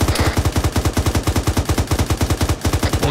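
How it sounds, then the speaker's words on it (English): Sustained rapid automatic gunfire in ARMA 3, a dense regular burst of loud close shots rattling on without pause for several seconds. "I think I'm hearing sniper."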